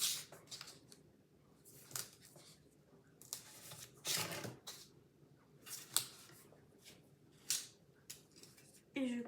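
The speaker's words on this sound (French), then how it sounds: "Et je coupe ici." Scissors snip through craft paper in short, crisp cuts at an uneven pace, close and quiet, with soft paper rustling between them.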